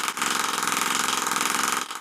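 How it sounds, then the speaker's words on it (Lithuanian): A small homemade compressed-air engine with a syringe piston runs under regulated pressure and chuffs in a rapid, steady pulsing rhythm. The sound is close and continuous, with one brief dip near the start and another near the end. "Slėgis yra reguliuojamas, bet dėl to variklis pradeda pulsuoti."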